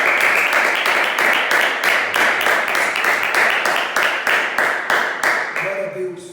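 A church congregation applauds, a loud and sustained wash of clapping that rolls on evenly for several seconds before thinning out at the end.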